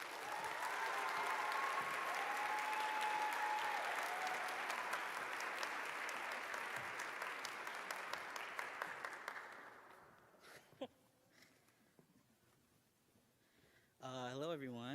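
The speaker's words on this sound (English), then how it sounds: "Thanks for the loud cheer." An audience at a graduation stoling ceremony claps loudly and steadily with some cheering for about ten seconds, then the applause fades into a quiet room before a voice begins over the speakers.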